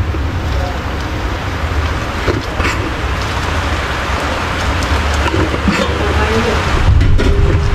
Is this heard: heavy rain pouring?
yes